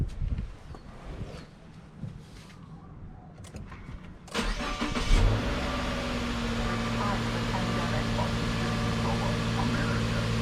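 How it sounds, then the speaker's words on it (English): A 2019 Subaru Legacy engine cranks and catches about midway through, then settles into a steady idle, following quieter background handling sounds. "Okay, so now I'm going to start up the car."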